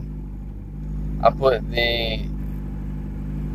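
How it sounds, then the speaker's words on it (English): A car idling roughly with a throttle body problem, fitted with an LS throttle body and a newer MAP sensor; a steady low engine hum runs throughout, with someone briefly talking over it midway. "I just don't know what the issue could be with this idling."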